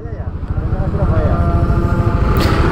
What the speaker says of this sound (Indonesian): kita bakal coba open shift dan gaspol